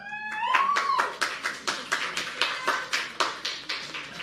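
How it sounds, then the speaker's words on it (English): A small group claps in a steady, even rhythm, moderately quiet and slightly distant, following a brief whistle-like tone at the start. "Not sure why you're clapping for that,"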